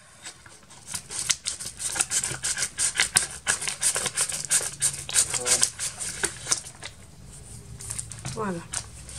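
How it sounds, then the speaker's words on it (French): Scissors snipping and slicing open a well-wrapped parcel of craft and scrapbooking supplies, a run of quick sharp cuts and crinkling packaging, close up, then rustling near the end. "Je vais prendre mes ciseaux"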